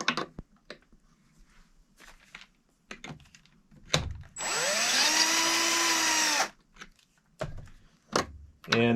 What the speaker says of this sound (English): I'll be using my L.E. Wilson case trimmer.